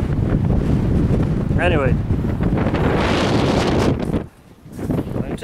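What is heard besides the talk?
wind blowing into microphone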